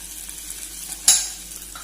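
Fenugreek and asafoetida sauté in hot oil for vadukapuli lime pickle, a soft steady sizzle broken by one sharp hissing burst as something hits the pan, then quieting.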